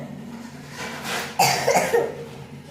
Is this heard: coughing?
yes